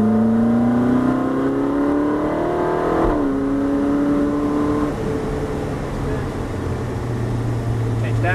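Ferrari 458 accelerating on the Dubai Autodrome track, engine note climbing loudly through the revs with a brief shift dip, heard from inside the car while a voice talks over it.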